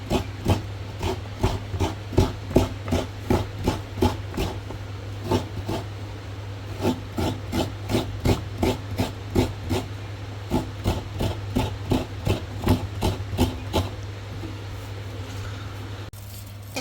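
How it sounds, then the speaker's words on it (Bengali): Pot of semai vermicelli coming to a boil, with a steady close hiss and a rapid, regular pulsing of bubbling that runs throughout without any talk. "বলক চলে আসছে এখন এটা বন্ধ করে দেব"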